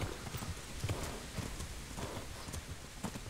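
A horse gallops in the medieval video game Kingdom Come: Deliverance, rhythmic hoof clip-clops beating in a steady repeating pattern, fairly quiet against a broad noisy background with no voices.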